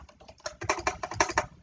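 Fast typing on a computer keyboard, a quick run of crisp key clicks that start soft and grow louder and denser, close to the microphone with no talk over them.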